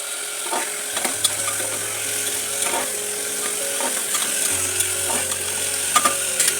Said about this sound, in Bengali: এবার এর মধ্যে আমি ডিমগুলো দিয়ে দিচ্ছি